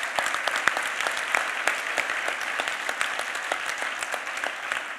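An audience at an honorary fellowship conferment ceremony at the Technion gives a steady round of applause. Many hands clap crisply and evenly at moderate volume for several seconds, with no voices over it.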